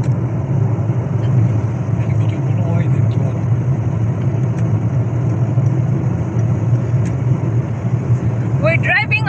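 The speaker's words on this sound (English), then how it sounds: "We're driving on the motor highway again." Car cruising on a motor highway on a summer road trip, a loud constant engine and road rumble throughout, with a voice speaking briefly near the end.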